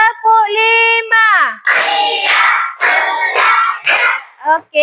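Schoolchildren clap a five-count rhythm in unison in an elementary classroom, several clustered bursts of hand claps following the teacher's call, close and fairly loud.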